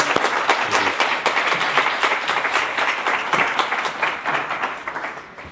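A conference audience applauds two speakers with a full, continuous round of clapping from many hands, loud and sustained, tapering slightly toward the end.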